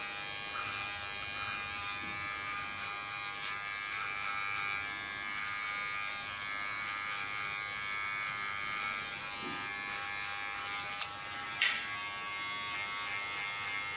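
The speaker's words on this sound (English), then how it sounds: "Take my largest Kiona clipper, starting on my nape shave." A large Kiona electric hair clipper buzzes steadily and close while shaving the nape of the neck, a continuous high whine with a few brief clicks and bumps as it moves across the hair.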